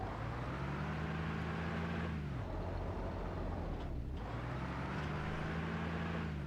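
A military truck engine in ARMA Reforger labors uphill, a low strained drone whose pitch sags, drops away, then climbs back as it grinds on, close and continuous.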